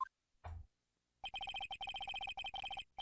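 A telephone rings in the Phoenix Wright: Ace Attorney game, a rapid electronic trill of repeated bright beeps in two bursts after a short chime and a soft thud, clean and close with no talk.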